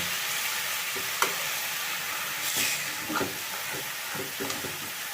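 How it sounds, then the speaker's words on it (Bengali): Pea greens for a vegetarian ghonto are stirred in a pan. A continuous frying hiss runs throughout, broken by a few soft scraping taps as they are turned over. "এবারে আস্তে করে এটা নাড়াচাড়া করে ওপর নিচ করে আমি ঢাকা দিয়ে এটাকে রান্না করব।"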